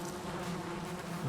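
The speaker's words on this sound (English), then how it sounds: "There's bees in the game." Bees drone in a video game, a steady close buzzing hum that holds without a break for the whole moment, with no voice over it.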